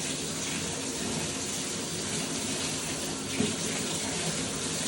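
Tap water runs steadily into a tub for a dog bath, a continuous, even splashing rush heard close and alone throughout, with no talking.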